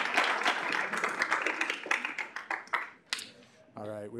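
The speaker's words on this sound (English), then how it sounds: "Can we give our new senators a round of applause?" Student senate members clap for newly seated senators, a burst of claps that thins into scattered claps and fades out, followed by a voice beginning to speak.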